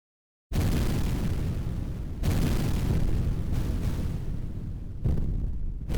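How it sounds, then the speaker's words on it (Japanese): A massive explosion aboard the aircraft carrier USS Franklin, a loud sustained roaring blast that swells in several rumbling surges after a moment of silence, continuous and heavy to the end. "二度目の大爆発を起こした"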